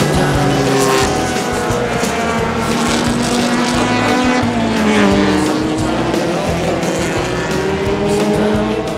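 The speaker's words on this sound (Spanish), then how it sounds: "Acá tenemos un vehículo de la categoría GT2, una Coupé Fuego, motor 2000 centímetros cúbicos." A GT2-class Coupé Fuego race car with a 2000 cc engine roars loudly at a Buenos Aires racetrack, its engine note rising and falling steadily through the whole stretch, with other running engines blending in.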